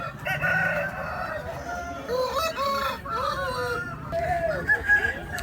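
A rooster crows loudly close by in a long, stretched call, with other chickens clucking around it at a poultry market in Vijayawada.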